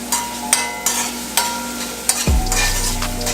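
Onions and scallions frying in a pot for a Jamaican beef kidney stew, with a steady sizzle broken by several sharp clanks and scrapes of stirring.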